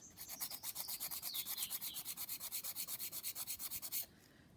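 Nail file rasping lifted gel off a client's nail in quick, even back-and-forth strokes, close and steady, about two dozen strokes before stopping.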